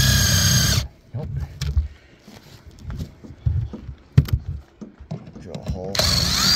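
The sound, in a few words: power drill drilling a hole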